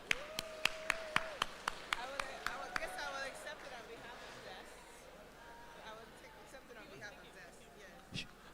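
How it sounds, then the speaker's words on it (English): Audience at an accounting and technology summit awards ceremony applauds a payment company's winning entry, a burst of sharp claps at first that thins into scattered clapping and crowd murmur. "A round of applause, please."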